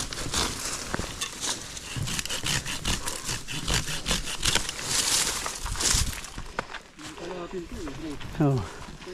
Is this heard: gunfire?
no